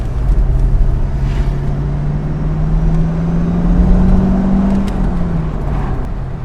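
A Corvette V8 from a C4 versus C5 Z06 comparison drones steadily and fairly loud as it drives, with a low, smooth engine note that rises slightly mid-clip before settling.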